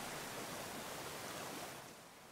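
A steady, faint rush of falling water from a waterfall in a hack of the Pokemon Silver video game, a soft hiss that tapers off slightly at the end.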